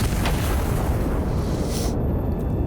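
A big turret gun firing a star round: one heavy, rumbling blast with a sharp onset, sustained low roar and then a sudden drop, loud and alone.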